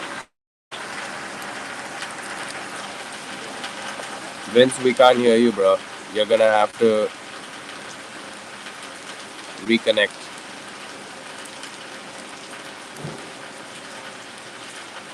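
Heavy rain pours steadily as a constant broadband hiss throughout, while a voice speaks in short bursts over it.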